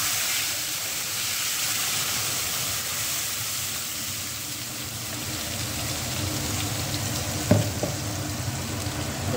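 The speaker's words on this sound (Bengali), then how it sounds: "তো ফোড়নটা ভাজা হয়ে গেছে, এবার মশলাগুলো অ্যাড করবো" Spice paste frying in hot oil for a Bengali fish curry (tel koi), a steady moderate sizzle and hiss throughout with a brief clink of stirring near the end, no talking.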